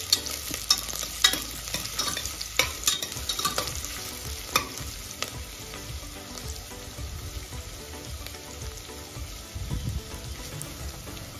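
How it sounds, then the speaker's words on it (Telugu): Onions fry with spices in oil and ghee inside a pressure cooker, a crackling sizzle broken by frequent scraping stirs that are louder early on, with no voices. "ఉల్లిపాయలను వేసుకొని కొద్దిగా ఫ్రై చేసుకోవాలి."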